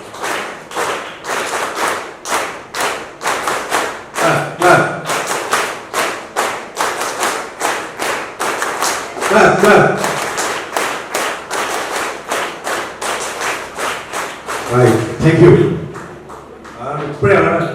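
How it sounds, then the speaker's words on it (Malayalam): Audience clapping hands together in unison on a spoken count, a steady run of sharp claps lasting the whole stretch, with a few louder bursts and voices mixed in. "നമുക്കൊന്ന് ക്ലാപ്പ് ചെയ്ത് നോക്കിയാലോ?"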